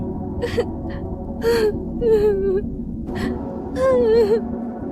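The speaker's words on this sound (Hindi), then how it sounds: "कमरे में किसी और के रोने की आवाज आने लगी।" Someone cries in a room in short, breathy sobs and whimpering wails, several bursts with gasping breaths between them, close and fairly loud.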